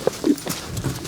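An older green-broke horse shifts its hooves as it yields its hips, giving a few close, irregular thuds and scuffs on the ground, with no talk over them.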